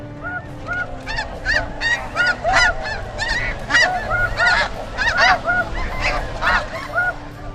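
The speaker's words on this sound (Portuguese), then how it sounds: "os caçadores tentam imitar o chamado do ganso para atraí-los" A goose call of the kind hunters use to lure geese gives a dense, continuous stream of overlapping nasal honks, loud and close, with no pauses or voices.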